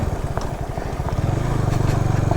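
A motorcycle rides slowly along a gravel road on a mountain route in Nepal, its low engine putting out an even, close-up chugging pulse throughout, with no talk.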